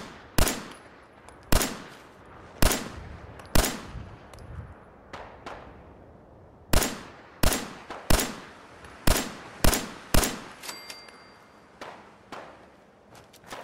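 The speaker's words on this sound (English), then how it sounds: "I hear gunshots, so we definitely have raiders." Raiders fire guns in the post-apocalyptic game Fallout 4: sharp, loud reports ring out one at a time, with a few irregular pauses, then come faster in a denser burst, each leaving a short echoing tail.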